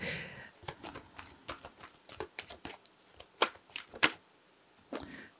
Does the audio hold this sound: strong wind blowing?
no